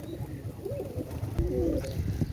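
A pigeon gives soft, low, rolling coos close by, two short phrases over a steady background hum.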